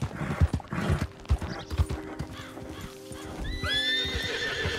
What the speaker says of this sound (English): Sorry, horses.